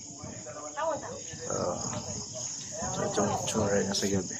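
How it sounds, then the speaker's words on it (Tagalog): Crickets chirp at night on a mountainside near a remote hilltop café in Pililla, a steady insect trill running under people talking throughout. "Rinig na rin mo yung mga kuliglig."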